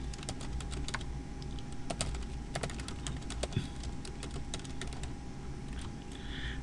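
Computer keyboard typing while writing code comments for a MIPS assembly program: quick, irregular bursts of close, crisp key clicks running steadily with no talking.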